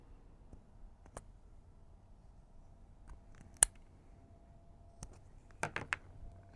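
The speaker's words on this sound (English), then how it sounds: "Let's see if maybe I trim the edge of this one." Scissors trimming the edge of a spring shelf-sitter craft piece give a few faint, crisp snips spaced apart, with a small cluster of quicker cuts near the end and no talking.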